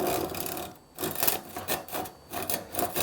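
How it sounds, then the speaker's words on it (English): Hand rip saw with 8 teeth per inch cutting through hard timber on a workbench, its waxed blade rasping in steady back-and-forth strokes with brief pauses between them, close and fairly loud. "I'm using an 8 TPI rip saw."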